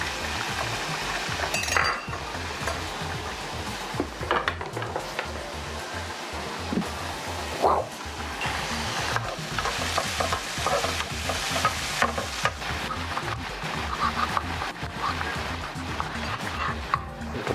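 Pancetta with garlic frying for spaghetti carbonara, a continuous close sizzle broken by repeated stirring scrapes and occasional clinks of a utensil against the pan.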